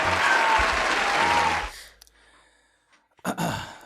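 Applause sound effect on a podcast: a short, loud burst of crowd clapping that cuts off abruptly, followed by near silence and a couple of quiet breaths or shuffles.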